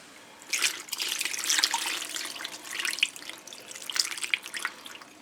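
Sauce splashes and trickles steadily over pork tenderloin in a close, wet pour, with brief surges and spatters, and no talking.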